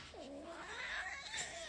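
A cat lets out a single drawn-out yowling meow that bends in pitch, close by but quiet, with no one talking over it.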